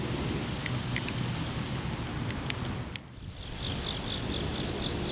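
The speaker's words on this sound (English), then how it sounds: "The trickle of rain running off of flowers." Rain running off flowers outdoors, a steady wash of falling water and drips with faint high chirps and a brief dip in the noise partway through.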